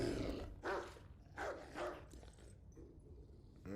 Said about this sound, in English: I don't ever take a dog barking at an inanimate object unseriously.